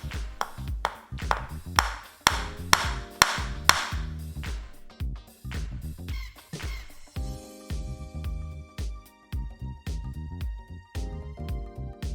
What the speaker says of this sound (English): And then I started hammering in my nails.